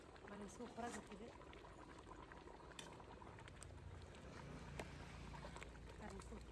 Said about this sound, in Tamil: பிரியாணி நல்லா கொதிச்சிட்ருக்கு